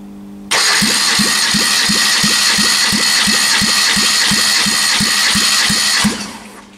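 A 2009 Kia Soul's 1.6-litre G4FC engine cranks on the starter during a first-cylinder compression test, giving a loud, steady whir with evenly spaced rhythmic pulses for about five seconds before winding down.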